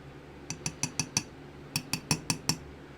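A metal spoon is knocked clean against a container at a bait shop: two quick bursts of bright, quiet clinks, five then five, each a sharp ringing tap in an otherwise still room.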